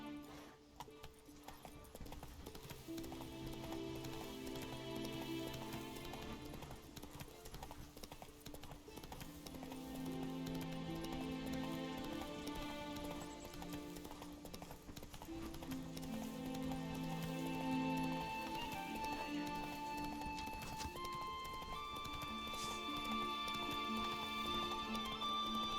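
Roach the horse gallops in The Witcher 3: Wild Hunt, with steady hoof clip-clop and an occasional whinny set under a continuous orchestral game score that stays loud and even throughout.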